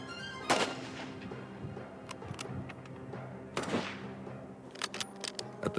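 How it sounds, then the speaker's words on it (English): Rifle fired in a timed series of three shots during a test: sharp, loud reports echo with rumbling tails, spaced a few seconds apart against a steady low background. "In each series, he was able to fire the 3 shots in less than 6 seconds"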